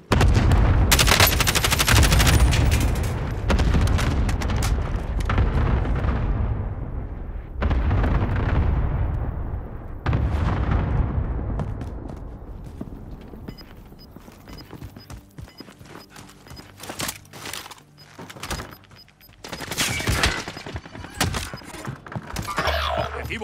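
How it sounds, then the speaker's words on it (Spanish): Gunfire and explosions from Call of Duty Warzone in Verdansk: loud, dense volleys of shots and heavy blasts in the first ten seconds, then sparser scattered shots and impacts that build again toward the end. "¡Me disparan!"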